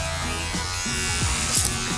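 Electric hair clippers with guards buzz steadily and close up during dry-hair detail cutting, a continuous hum with slight pitch shifts as the blades move through hair.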